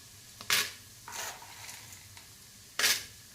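Chana dal dropped into hot oil with mustard seeds and urad dal while tempering samba rava upma, giving three short, sharp sizzling bursts with quieter crackle between them and no voices.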